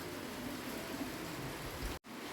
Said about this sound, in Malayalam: നല്ല മഴയുണ്ട് പുറത്ത് അതാ അതൊരു സൗണ്ട് പോലെ തോന്നുന്നത്